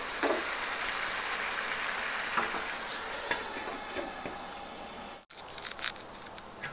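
Chicken jalfrezi with green chilies sizzles in a pan, a steady bright hiss with faint crackles that cuts off abruptly near the end and returns as quieter, sputtering spits.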